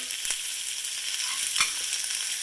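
Onion rings roasting on a cast iron pan for salsa verde make a steady, close hiss of sizzling fat with a couple of brief crackling pops.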